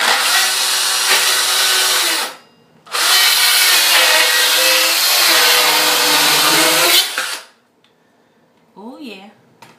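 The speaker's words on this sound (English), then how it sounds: "So I'm gonna start it off with my power tool." Power tool biting into wooden baseboard, two long loud whining bursts close by with a brief pause between, followed by near silence and a faint short voice.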